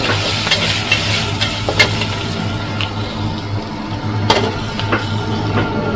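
Duck and basil sizzle in a wok as a metal spatula scrapes and knocks against the pan in quick, irregular strokes.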